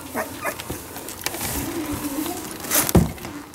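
Three-week-old puppies, including a double blue-eyed red tri male, let out soft, close whimpers and a few brief yips in a quiet litter setting.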